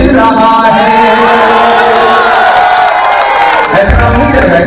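A crowd at a political election rally cheers and claps loudly, with sustained shouting and whooping that swell and dip, then rise again.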